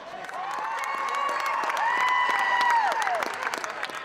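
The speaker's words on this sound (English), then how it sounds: "Parents Kip and Tanya Thompson cheer on their son Derek" Parents cheer on their son at a basketball game amid a crowd, with steady applause, shouts and whistling-like voices rising and falling over about four seconds.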